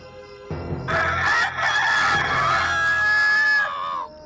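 A rooster crows once, a loud, close, drawn-out cock-a-doodle-doo lasting several seconds over low background hum.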